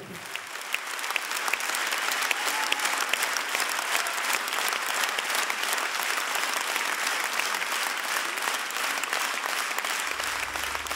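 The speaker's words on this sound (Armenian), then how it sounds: "եկեք շատ բարձր, շատ-շատ բարձր ծափարենք" A live concert crowd in Los Angeles applauds loudly to welcome a singer to the stage, a thick, sustained roar of clapping that holds steady for about ten seconds.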